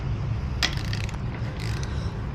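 A wrench tightens the rear axle nut on a Yamaha PW50 motorcycle with a few brief metallic ratcheting clicks over a steady low background hum.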